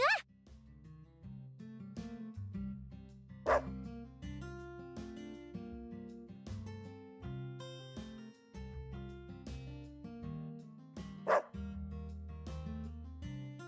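A Dalmatian barking in the video game Deadly Premonition 2, a few sharp barks spaced several seconds apart over steady game music, with no talking.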